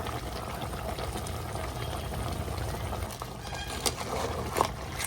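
Crab masala with a little water and ghee simmering in a pan, a steady low bubbling and hiss that carries on evenly throughout with a few faint clinks, and no talking.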